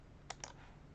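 A couple of quick, light keypresses on a computer keyboard in a text editor, two faint separate clicks close together over a quiet room.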